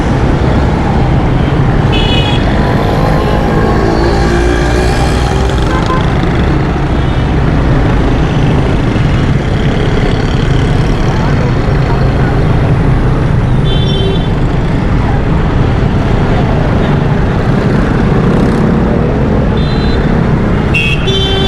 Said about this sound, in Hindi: तितर हुई है ट्रैफिक